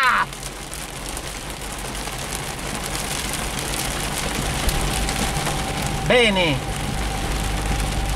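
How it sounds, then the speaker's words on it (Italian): Hail and rain pelt a Fiat Panda while driving, a steady dense drumming on the car body with engine rumble underneath, and a voice speaks briefly. "ecco la grandine, come avevo previsto. Grandina!"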